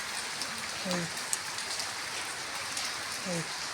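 Heavy rain in Bhubaneswar hisses steadily and evenly, fairly quiet overall, with a couple of brief faint voices rising over it.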